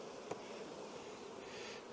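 Honey bees buzz in a hive box as a dense, continuous, faint droning hum, with a brief sharp knock near the start.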